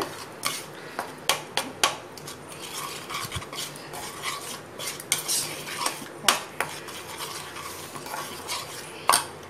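Chicken pieces being mixed with beaten egg and salt in a bowl for chicken 65, with repeated close clinks and scrapes of a spoon against the bowl and a soft wet stirring between them, no talk.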